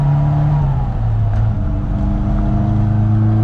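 A Rover Mini Cooper engine held at high revs, a loud steady drone with a slight dip in pitch partway through, close by and with no talk over it.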